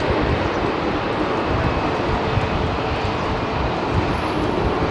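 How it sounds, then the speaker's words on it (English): An Air Canada Boeing 787 Dreamliner departs London Heathrow runway 27R, a steady, dense jet roar filling the whole stretch at constant loudness with no talking. "Nice Air Canada Dreamliner Bandit coming out."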